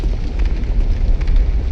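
A boss's area-of-effect explosion in a fantasy action game erupts as a dense, sustained rumbling roar with heavy low-end boom, loud and close, with no speech over it.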